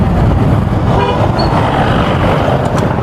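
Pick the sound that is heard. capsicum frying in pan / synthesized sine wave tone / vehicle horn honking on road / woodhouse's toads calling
vehicle horn honking on road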